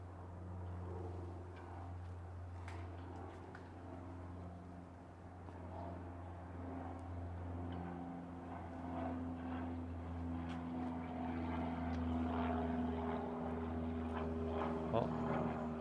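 A small propeller plane drones steadily overhead on a walk in Japan, a low continuous hum holding across the whole stretch amid faint street ambience.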